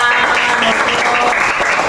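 Loud, dense applause from a gathered crowd at a school event fills the whole stretch steadily, with no breaks and no talk.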